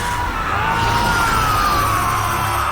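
Loud, sustained screaming from the Sonic Frontiers video game, with a wavering tone over a dense, noisy game soundtrack that stays at full level throughout.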